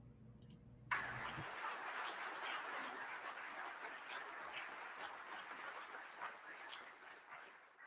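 Warm audience applause at an evening gathering, a steady dense wash of many hands clapping that starts abruptly after a brief sound and holds at moderate level throughout, no speech over it.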